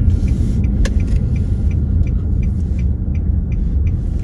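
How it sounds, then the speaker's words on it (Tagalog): Busy road traffic with many cars passing, a dense, loud, continuous rumble of engines and tires nearby with occasional light clinks, and no voices. "Marami ng sasakyan ngayon, mas marami kaysa kanina."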